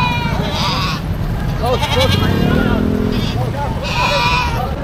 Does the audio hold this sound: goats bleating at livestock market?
yes